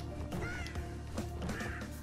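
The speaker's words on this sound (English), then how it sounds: "And here's the three birds." Birds cawing in the video game Crash Bandicoot N. Sane Trilogy, a few harsh crow-like caws in quick succession, fairly faint over game background sound.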